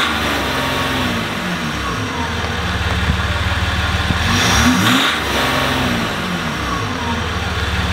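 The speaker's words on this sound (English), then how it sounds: "let me give you a few revs" A large diesel truck engine idles with a deep, rough rumble, then revs briefly and settles back, close and steady.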